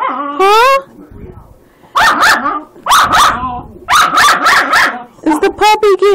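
A jealous pregnant dog makes repeated whimpering, yelping barks in close, loud bursts with short pauses between them; a person's voice may mingle with the vocalizations.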